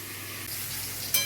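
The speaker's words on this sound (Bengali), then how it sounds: "চাল কুমড়োগুলো একটু ভালো করে ভাজার জন্য আমি একটু ঢাকা চাপা দিয়ে দিচ্ছি।" Ash gourd slices frying in oil in a covered pan, a soft, steady sizzle at low level with a brief brighter crackle near the end.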